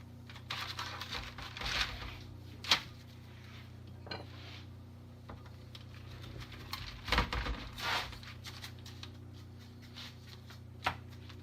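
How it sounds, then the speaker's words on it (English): A pizza cutter rolls through stacked tortillas to cut them into chips, making faint scraping and crunching strokes with occasional taps on the cutting surface, spaced irregularly and quiet, with no talking. "use a pizza cutter and cut them into little chips"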